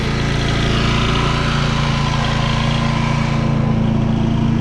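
An XP9000IH generator running with its electric throttle off, a loud, close, steady engine drone with a strong low hum and even pulsing rhythm, unchanging for the whole stretch and without speech.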